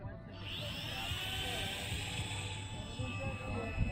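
A Park10 Toys P707G Cessna-182 3CH RC airplane taking off, its small electric motor rising into a steady high-pitched whine that holds, nearby and fairly loud, over low wind-like rumble.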